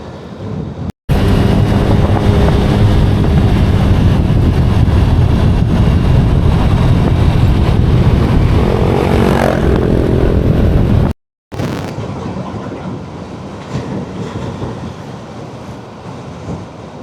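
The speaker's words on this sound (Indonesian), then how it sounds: "Anginnya besar teman-teman, semoga nggak masuk ya, karena noise reductionnya aku cuman setting di low aja" Strong wind buffets a microphone during motorcycle touring near Limbangan in Indonesia, making a loud, continuous low roar that briefly drops out twice and then continues slightly softer.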